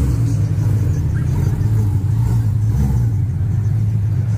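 A loud Ford Mustang 5.0 Mach 1 with bronze or gold paint rumbles at a car show, its deep engine note steady and close, with a slight swell in revs.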